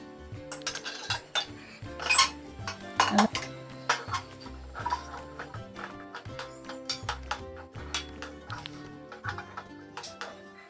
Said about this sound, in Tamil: இது நல்லா ஸ்மாஷ் பண்ணி விட்டுக்கிறேன்